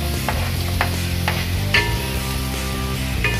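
Onion sizzling in margarine in a pan, a steady close frying hiss with a few sharp crackles and light stirring scrapes, no talk.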